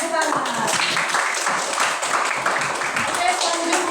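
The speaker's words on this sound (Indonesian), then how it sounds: "Ayo kita tepuk tangan." In a classroom, a group of children claps their hands in brisk repeated strokes, close and fairly loud, with young voices calling out over the clapping.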